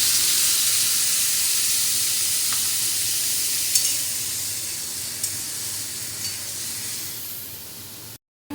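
Cumin, ginger and chili paste frying with paneer in a home kitchen pan, a loud, steady sizzle and hiss with a few sharp clinks of a spatula, ending abruptly.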